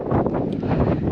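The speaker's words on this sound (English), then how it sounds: "It's pretty windy, so I'm sorry if the audio quality is maybe just slightly average" Strong outback wind buffets the microphone in a continuous low rumbling roar, loud and close, with gusty swells and no clear voices.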